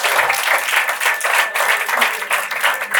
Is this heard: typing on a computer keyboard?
no